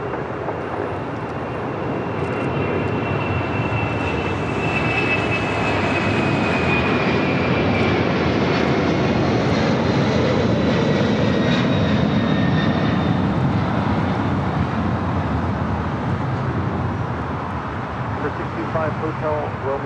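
A heavy Boeing 777 lands on runway 25 left at LAX, its engines giving a long, steady roar that swells in the middle and tapers off gently toward the end.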